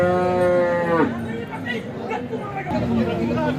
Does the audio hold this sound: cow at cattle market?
yes